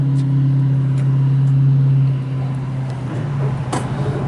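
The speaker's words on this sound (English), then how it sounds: "I tell you, this truck drives like brand new." A 1995 Chevrolet Silverado shortbox two-wheel-drive pickup drives along with a steady low engine hum that drops in pitch midway, heard from inside or close by.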